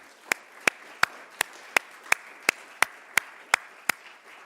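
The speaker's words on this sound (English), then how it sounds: "Another round of applause for the panel." Crisp, evenly spaced hand claps at a panel session on community field work, about a dozen sharp, close claps in a slow, regular rhythm over a quiet background.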